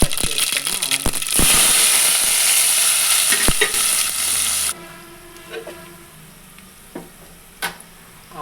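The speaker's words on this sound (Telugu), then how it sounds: "ఆయిల్ హీట్ అయిన తర్వాత ఆవాలు జీలకర్ర మెంతులు వేసుకోండి ముందుగా" Mustard, cumin and fenugreek seeds hit hot oil in a pan with a loud, bright sizzle and crackling pops, then the frying quickly settles to a much quieter simmer with a few scattered clinks, no talking.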